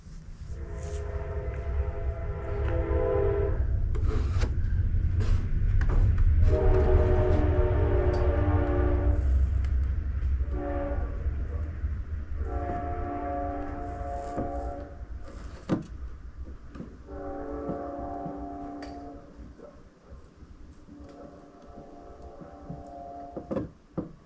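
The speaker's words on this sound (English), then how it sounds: "Train's coming" A train passes nearby beside someone doing a plastic repair, its long horn blasts sounding in several loud sustained bursts over a heavy rumbling roar that swells and slowly fades.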